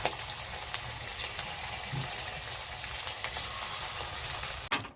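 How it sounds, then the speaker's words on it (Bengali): Chicken pakoras deep-frying in oil, dropped in one by one, produce a dense, loud bubbling sizzle up close, with a soft bump midway and a clatter just before it ends. "ভেজে নেব পকোড়ার মতন করে"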